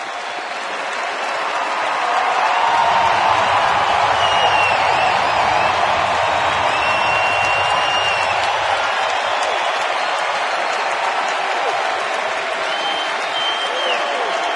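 Large crowd at an Atlanta Braves home baseball game against the Florida Marlins, a steady broad roar and murmur of thousands of fans that swells after the first couple of seconds and holds loud and continuous.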